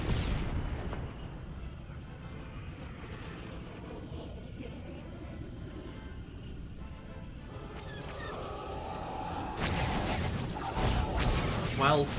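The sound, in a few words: starship cannons firing in Star Wars: The Old Republic video game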